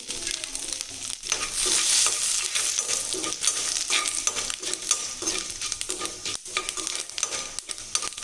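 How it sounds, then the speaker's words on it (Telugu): Continuous crackling sizzle of mustard seeds and dried red chilli pieces frying in hot oil for tempering, loud and close, with occasional stirring scrapes and no voices. "వేగిపోయిందండి పోపు అంతా"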